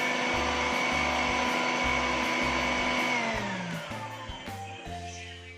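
An overloaded kitchen blender grinding a thick batch of gado-gado ingredients, its motor loud and close with a pulsing, uneven strain, then bogging down and dropping in pitch as the jammed mixture stalls it.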